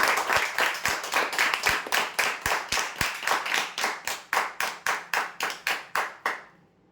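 Applause at a prize draw from a small group, about twenty sharp claps in an even rhythm, close and loud, stopping abruptly.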